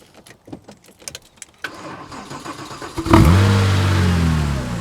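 A Porsche 996 Turbo fires up after a few clicks and handling noises, bursting into a loud, close start-up roar with rising revs that ease into a strong, sustained engine note.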